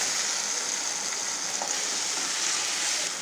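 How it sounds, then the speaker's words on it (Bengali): A spice paste for chicken gravy fries with browned onions in a pan, giving a steady, close hiss and sizzle with no voices. "এখন আমি দিয়ে দিচ্ছি যে মশলাটা আমি তৈরি করে রেখেছিলাম, সেই মশলাটা এখন আমি খুব ভালো করে পেঁয়াজের সাথে ভেজে নেব।"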